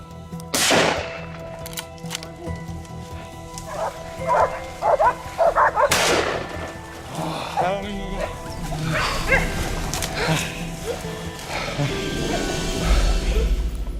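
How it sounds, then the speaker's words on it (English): Rapid gunshots crack out during a wild boar hunt with fierce hunting dogs, several sharp loud reports spaced through the stretch amid outdoor rustle, with voices talking over parts of it. "Shots rang out in rapid succession, and the boar collapsed in the tall grass."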